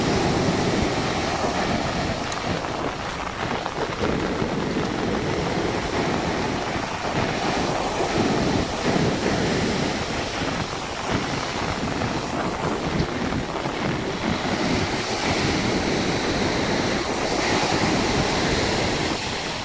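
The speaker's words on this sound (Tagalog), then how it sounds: "lakas ng ampas ng alon" Waves crash and surge continuously against the shore during a typhoon and monsoon high tide, with a roaring wash and gusts of wind buffeting the microphone.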